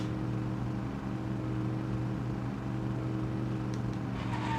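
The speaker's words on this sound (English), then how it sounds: "This thing is a nice, like, cruising sound. Its engine is nice." Steady car engine droning at cruising speed in the Cruis'n USA arcade racing game, a continuous even hum with layered tonal bands, held at a constant level throughout without speech.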